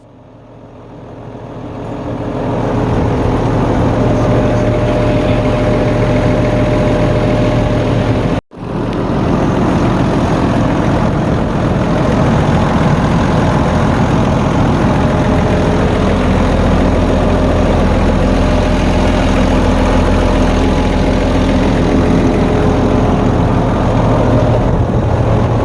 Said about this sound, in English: after letting the air out of the injector lines one by one, the engine started running smoothly